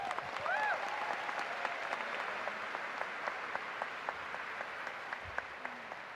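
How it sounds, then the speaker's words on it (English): Applause from the crowd at a high school graduation ceremony, distant and steady, with a few sharper claps and whoops standing out in the wash. "How about a round of applause for all the academic achievements from this group?"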